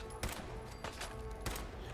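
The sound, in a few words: rifle gunshots in Fallout 4 video game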